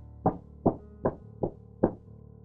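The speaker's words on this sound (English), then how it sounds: "It was a heavy, impatient knock, one that shook the whole doorframe." A heavy, impatient knock on a door, five loud, evenly spaced thuds about two-fifths of a second apart, each sharp and booming, with a faint hum between them.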